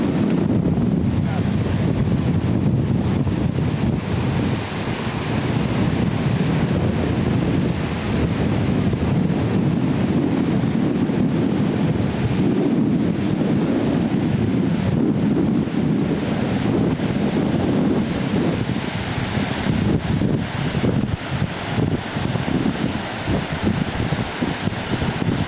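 Loud, continuous surf and strong gusting wind on the open seashore at Cancale, waves rolling in close with heavy wind buffeting the microphone throughout.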